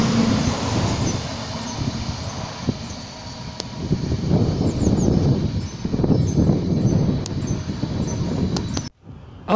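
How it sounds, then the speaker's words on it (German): A regional express train pulls into Geltendorf station on a windy afternoon, with a steady rumble of wheels and carriages, brief squeals and a windy outdoor hiss, fairly distant, with no talk. "Auf Gleis 1 Einfahrt, Regionalexpress von München über Kaufering, Buchloe, Kaufbeuren zur Weiterfahrt nach Kempten-Allgäu Hauptbahnhof"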